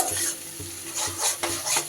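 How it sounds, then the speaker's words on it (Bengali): Spices are stirred and fried with already-fried onion and garlic in a pan, with a steady crackling sizzle and repeated rhythmic spoon scrapes against the pan, close and loud with no talking. "সুন্দর করে এবার মশলা আমি কষিয়ে নেব"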